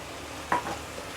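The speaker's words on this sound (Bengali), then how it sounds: "এখন আমি টমেটোটা দিয়ে দেব।" Tomato tipped into a pan of softened vegetables and carrot: a single soft, brief plop and stir in the middle, close but quiet, over near-silence.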